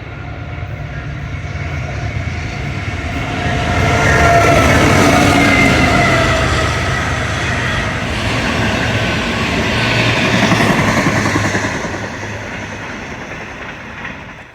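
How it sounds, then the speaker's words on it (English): A Canadian Pacific auto rack freight train led by a rebuilt CP AC44 locomotive with a KCS GEVO second rolls past nearby, its loud, steady rumble of wheels and engines swelling and easing for about fifteen seconds with no one talking. "Next up was a CP KC auto rack with CP AC44 rebuild leading and KCS"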